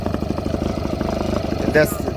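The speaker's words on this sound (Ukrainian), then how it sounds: "Робимо вкатку мотора." A Parsun 2.6 outboard motor runs steadily during its break-in on a fishing outing, a close, even engine drone with a brief higher burst near the end.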